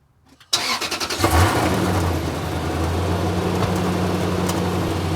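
A Lexus GX470 V8 starts up after an exhaust repair with JB Weld ExhaustWeld: a brief cranking whirr, the engine catches with a surge, then settles into a steady, loud idle rumble.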